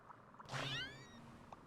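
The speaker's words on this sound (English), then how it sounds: "I'm petting my cat" A pet cat meows once while being petted, a clear, close, drawn-out call standing alone over faint room noise.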